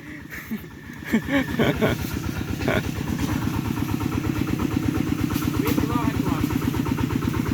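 Motorcycle engine revving up from idle, a loud, steady rhythmic clatter that builds after a second and holds strong throughout.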